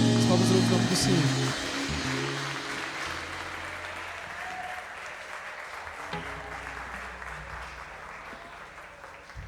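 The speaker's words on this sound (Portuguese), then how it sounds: "As palmas no nome do Senhor." Steady applause from a church congregation during a worship service fills the space, with music-like tones and voices blending underneath as the clapping gradually softens.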